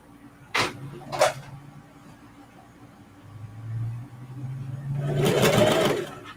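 A sewing machine runs a short back stitch through denim jeans, two quick bursts at first, then a low steady whir that builds into a louder, busier run of stitching near the end.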